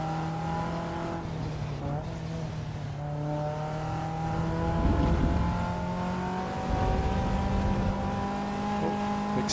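A race car engine in the Assetto Corsa EVO video game drones and rises and falls in pitch as the throttle is blipped, with a steady harmonic tone throughout.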